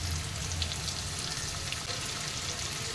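Chopped onions, about a cup, sizzle steadily in three tablespoons of hot oil for a prawn masala, a dense, even frying hiss close by that holds through the whole moment with no one talking.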